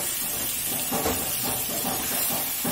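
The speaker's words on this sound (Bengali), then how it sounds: "ভালো করে নেড়ে চেড়ে এখন এটা ভেজে নেব।" Potato and egg filling frying in a pan gives a steady, close hiss, with soft rhythmic stirring sounds pulsing through it.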